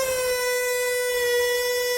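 A steady, piercing reed squeal from blowing through a drinking straw, one high held tone with buzzy overtones, close and loud for about two seconds.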